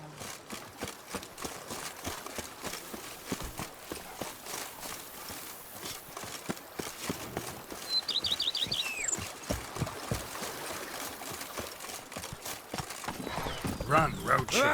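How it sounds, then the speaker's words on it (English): Horse galloping in The Witcher 3: Blood and Wine, steady rapid hoofbeats throughout with a brief whinny, under a man's speech and ambient game sound. "Run, Roach."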